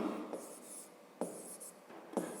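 Pen scratching across paper while writing down a math exercise, soft and close, in short strokes broken by a few light taps, with no talk.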